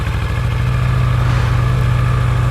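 A Kawasaki Vulcan S 650 motorcycle with its stock exhaust runs steadily right after starting, a loud, close, even engine drone with a fast regular pulse throughout.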